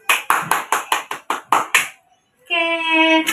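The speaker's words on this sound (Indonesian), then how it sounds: "Tepuk tangan dulu dong untuk Darus." A classroom group claps for a student in a technical drawing lesson: about eight sharp, evenly spaced claps in a quick rhythm, then a pause and a steady electronic tone.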